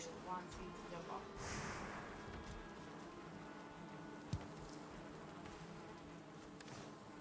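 Bees in the video game Valheim give off a steady, soft buzzing drone that runs throughout, partly under people talking, with one sharp click partway through.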